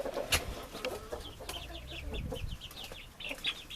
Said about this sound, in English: You'll see the hens get after them a little bit